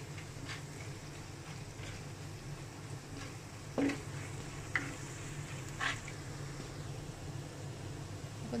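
Green chillies sauté with salt in a pan for a Thrissur-style fish head and raw banana dish, giving a quiet, steady sizzle broken by a few soft spatula scrapes and clinks.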